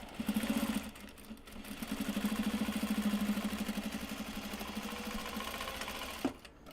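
A sewing machine stitches upcycled obi and kimono fabric, running in a steady, close, continuous hum with a fast stitching rhythm that slows briefly, then carries on for several seconds before stopping abruptly near the end.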